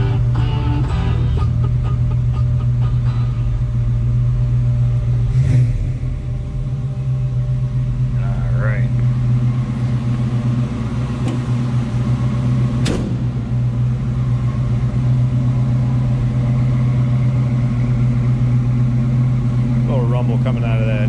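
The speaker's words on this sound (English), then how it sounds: "Coming out of that V8." Throaty exhaust note from the V8 of a 1947 Chevrolet Fleetline fastback street rod, a steady low rumbling idle held close and loud throughout, with faint clicks and knocks over it.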